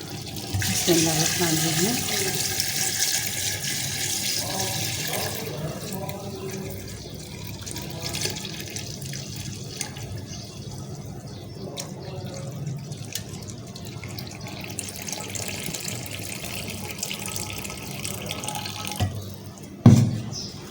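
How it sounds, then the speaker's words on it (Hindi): Yakhni broth pours steadily into beef paya that has been fried with milk and spices, a continuous running-liquid splash that fades near the end, followed by a brief clatter. "और अब हम डालेंगे इसमें यखनी"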